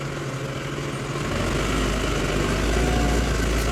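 A large diesel tractor engine, a 2024 model, runs steadily nearby, a low rumbling drone that grows slightly louder partway through.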